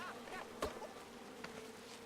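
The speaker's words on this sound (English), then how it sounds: "Poor guy's still dealing with the bees." Bees hum faintly through a King's Quest game scene, a low steady drone with a couple of brief sharper buzzes as insects pass close.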